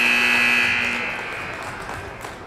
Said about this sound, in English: After the drop, there's the buzzer.